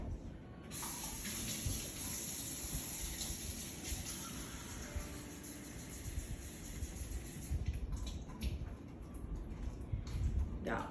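Warm water runs steadily from a tap into a bowl for several seconds, a close, continuous hissing splash with faint clinks near the end.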